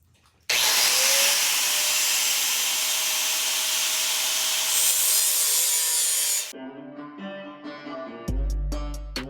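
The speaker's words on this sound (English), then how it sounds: "So I'm gonna take my grinder and get to cutting." An angle grinder cuts metal while an overflow reservoir for a 6.5 diesel Chevy is made outdoors in the cold, a loud sustained whine lasting about six seconds before it spins down, followed by a few sharp metallic clanks.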